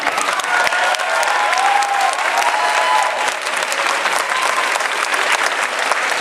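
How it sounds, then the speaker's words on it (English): Loud, sustained audience applause after a Q&A session at a sci-fi convention in Stockholm, a thick roar of many hands clapping with scattered crowd noise throughout. "keep the applause going"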